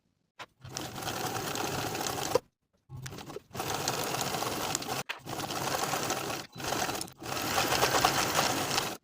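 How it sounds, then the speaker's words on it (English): A sewing machine stitches the shoulder and side seams of a V-neck top with ruffle sleeves, running in steady close bursts of rapid whirring broken by brief pauses. "Then we'll sew the side seams and the shoulder seams with a half-inch seam allowance."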